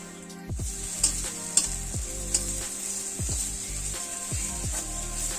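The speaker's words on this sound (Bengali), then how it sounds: "এই যে আমাদের ভাজা প্রায় শেষ, বড়াগুলো তৈরি হয়ে গেছে।" Dried lentil dumplings (bori) frying in oil for a calabash curry sizzle steadily up close, with a handful of sharp utensil clinks and soft knocks at irregular moments, no one speaking.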